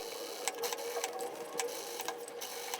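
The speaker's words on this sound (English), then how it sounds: "I'm gonna finish my stitch in the ditch" Sewing machine stitching in the ditch along the waistband of a skirt, a steady close mechanical whirr with regular stitch ticks running throughout, no talking.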